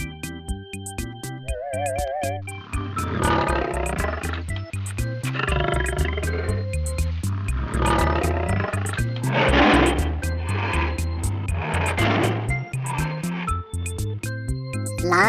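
Lion roars come as several long, deep, rumbling bursts over a rhythmic music track with a steady beat. Each roar swells and fades in turn across the span.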